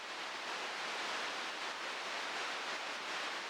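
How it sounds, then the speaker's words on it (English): Steady hiss of broadband noise from a ZOIA tape-emulation patch, faint and continuous, with subtle fluttering dips in level like tape dropouts. "You can hear the dropouts already happening."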